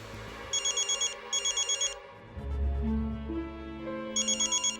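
A phone ringing in a repeated electronic trill, three clear bursts of rapid chirping tones over a soft musical score, sounding close and crisp.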